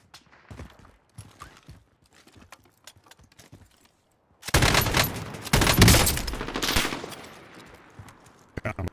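Gunfire from a sniper rifle in the Call of Duty Warzone video game: a quiet stretch of soft clicks and footsteps, then a sudden loud blast that rolls on for a couple of seconds, with another sharp burst at the very end.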